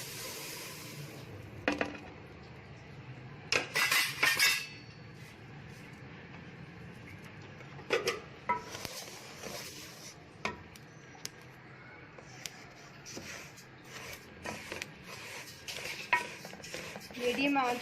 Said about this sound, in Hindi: उसमें ये सारे के सारे तिल डाल के हल्का सा फ्राई कर लेंगे इनको